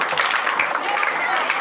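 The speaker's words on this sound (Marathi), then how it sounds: "याच्यासाठी अर्ध्या टाळ्या वाजवा फक्त" A brief burst of clapping from a gathered audience, dense and moderately loud, with voices running through it.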